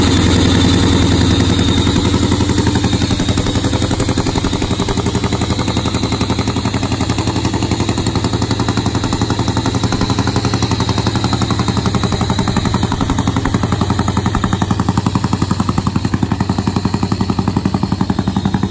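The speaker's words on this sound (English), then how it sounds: "Here now the supercharged machine of Jay the Bulldog Turner and the Lucas Oil Nitro Harley alongside Sharky." Supercharged nitro Harley drag bike engines at a drag race, a loud, continuous rough roar that stays steady from start to finish with no talking.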